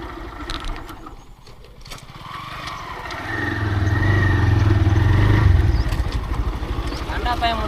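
A motorcycle engine revving up as a rider pulls a wheelie, rising to a loud sustained drone midway and then easing off, with people talking over it at the start and end.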